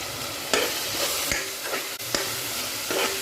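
Spinach and mixed vegetables with chilli powder, turmeric and coriander powder being sautéed in a pan, a steady moderate sizzle broken by several sharp spoon scrapes and knocks at irregular intervals.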